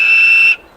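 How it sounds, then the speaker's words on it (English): A train guard's whistle gives one shrill, steady, sustained blast for about half a second before cutting off sharply, loud and close. "The guard blew his whistle"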